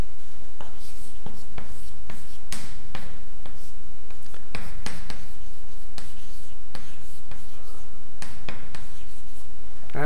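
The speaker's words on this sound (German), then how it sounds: "Den Begriff schreibe ich noch kurz auf." A lecturer writes a term by hand on a board during a lecture, producing repeated scratchy strokes and taps in irregular bursts at close range.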